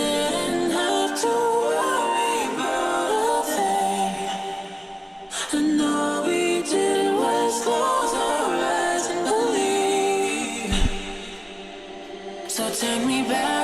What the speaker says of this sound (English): So the vocal all together sounds like this.